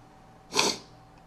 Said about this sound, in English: Getting a little sniffle coming out of it.